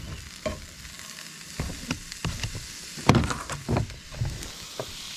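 A pancake fries in butter in a pan, giving a low steady sizzle with irregular knocks and scrapes of a utensil against the pan, close and moderately loud.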